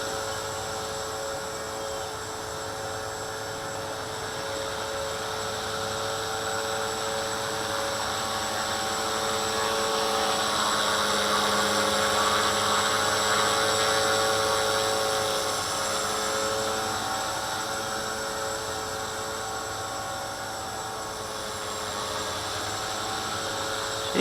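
A small V450D01 RC helicopter hovers on its maiden flight, its steady high-pitched motor whine and rotor buzz running continuously at close range, swelling slightly louder midway and then easing off.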